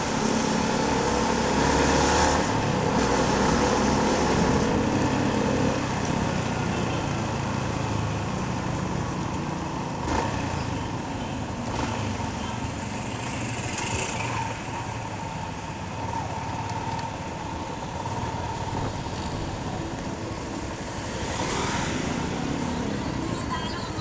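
A 2019 Yamaha Sniper 150 motorcycle runs hard under acceleration, with a continuous loud engine drone and wind rush that shifts in pitch over about twenty-four seconds and no clear breaks.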